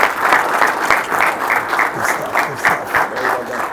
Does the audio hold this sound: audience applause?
yes